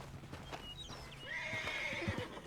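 A horse in the Western video game Red Dead Redemption 2 gives a loud, drawn-out whinny that rises and wavers, with hoof clip-clops and game ambience beneath.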